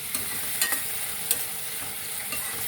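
Tomato and masala frying in a pan for a goruchikkudukaya curry, a continuous moderate sizzle with a few quick stirring scrapes and taps.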